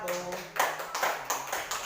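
Students in a classroom give a few soft, scattered claps that come in uneven bursts, faint and fairly close, with a voice briefly audible at the start.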